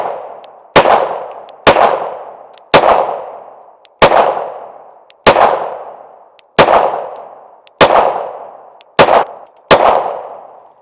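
Rost Martin RM1C pistol fired from a 17-round magazine: nine loud, sharp shots at a steady, deliberate pace, each with a short ringing decay, close and alone.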